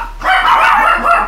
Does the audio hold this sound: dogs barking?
yes